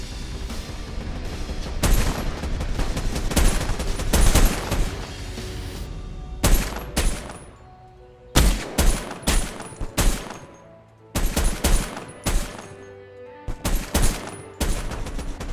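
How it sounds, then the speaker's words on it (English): Suppressive enemy gunfire in the war shooter Ratten Reich: dense bursts of automatic rifle and machine-gun fire with scattered booms, loud and continuous with brief lulls between volleys, no voices. "the enemy opened a suppressive fire on us"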